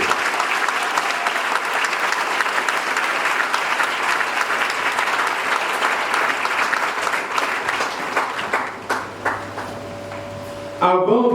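A congregation at a thanksgiving Mass for Father Simon at Notre Dame de Garde in Yamoussoukro claps in dense, sustained applause that thins out near the end, with a voice speaking over it.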